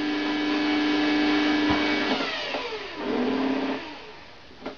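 A Bosch MUM4600 stand mixer kneading bread dough, its motor whirring loudly and steadily, pitch shifting and dipping briefly as the load changes, close and alone.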